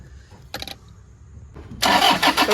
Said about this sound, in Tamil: இந்த Toyota Innova வந்து பார்த்திங்கன்னா நான் ஸ்டார்ட் பண்ணிட்டேன்.